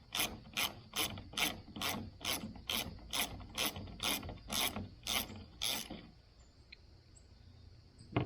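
A hand ratchet clicks in quick rhythmic bursts, about a dozen even strokes, while bolts are removed from the roof of a Kubota M135GX tractor, then it falls quiet.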